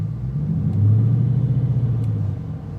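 A Dodge Challenger with a 6-speed manual and a badly worn clutch strains to creep forward, its engine droning in a low, close rumble that rises and holds briefly before easing off.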